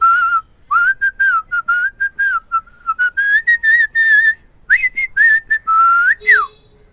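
Someone whistles a lively tune, a clear pure tone broken into quick separate notes that rise and fall in pitch, close and loud with no talking over it.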